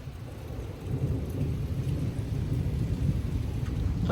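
A severe thunderstorm in Frisco, Texas, with 40 mph wind gusts, heard as steady rain and a deep rolling rumble of thunder that swells after the first second and stays loud and continuous.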